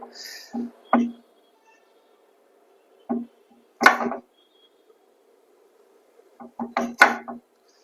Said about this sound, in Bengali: এখন আমি পেঁয়াজ কাটবো